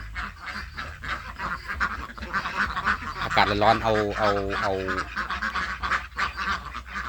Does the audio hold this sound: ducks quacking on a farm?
yes